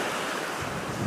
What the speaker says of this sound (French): Allez, encore un peu la mer.